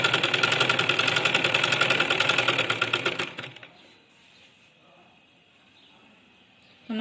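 A sewing machine runs fast, stitching a folded cloth keyhole neckline, a steady loud mechanical whir with rapid regular needle rhythm for about three seconds, then stops, leaving quiet room tone.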